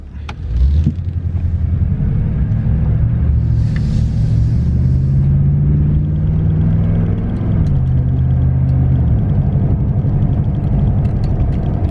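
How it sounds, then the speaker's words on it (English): A Toyota Tundra with an aftermarket exhaust drones with a deep, steady rumble at running speed, heard from inside the cab, with the pitch briefly rising and then dropping as the engine load changes. "it's just the perfect tone, the perfect little grumble that you can hear. And that's what I really love about this exhaust"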